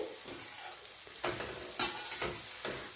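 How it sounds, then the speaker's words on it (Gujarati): Onions sautéing in a pan for tandalja bhaji, a steady low sizzle with a few scraping stirs and one bright clink of the utensil, close and moderately quiet, no voices. "ડુંગળીનો થોડો કલર બદલાય ત્યાં સુધી આપણે ડુંગળીને સાતડવાની છે"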